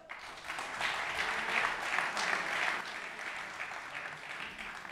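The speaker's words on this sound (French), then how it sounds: "je vous demande d'applaudir le numéro 3, Kemelo Engena." A large football stadium crowd in Troyes claps steadily for several seconds as players are introduced, a broad, even wash of applause heard from some distance, gradually easing off.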